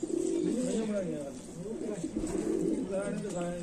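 Sialkoti kikar pigeon cooing close by in repeated low throaty coos, with a person talking over the birds throughout.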